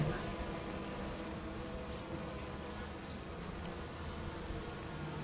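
Honeybees coming back to the hive carrying pollen loads, a steady close buzzing swarm that hums continuously at low level throughout.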